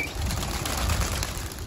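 Pigeons burst into flight from a loft, a steady close rush of flapping wings filling the whole stretch with dense feathery flutter and no voices.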